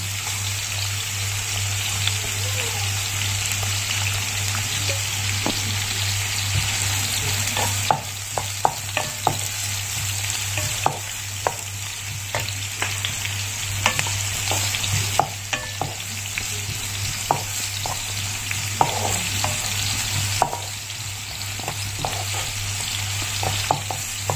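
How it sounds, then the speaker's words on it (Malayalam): Sliced onion sizzles in hot oil for a fish fry dish, a constant bright frying hiss with a low hum beneath and frequent spoon-scrape stirring clicks scattered throughout, close and without speech. "എണ്ണ നന്നായിട്ട് ചൂടായിട്ടുണ്ട്. നമുക്ക് ഈ സവാള അതിനോട്ട് ഒന്നിട്ട് കൊടുക്കാം."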